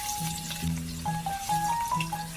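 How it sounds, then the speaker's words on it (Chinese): Spices such as bay leaves, dried chilies and Sichuan peppercorns frying in hot oil in a wok, a steady close sizzle with occasional stirring and no talk. "起锅热油，油热之后放入香料，"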